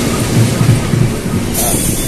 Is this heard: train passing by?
yes